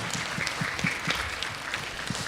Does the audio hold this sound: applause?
yes